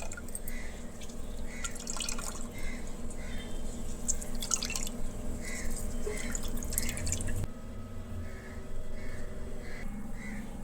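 Water drains through a cloth strainer in a home kitchen, a steady trickle with repeated drips, fairly quiet, with bird calls outside in the background.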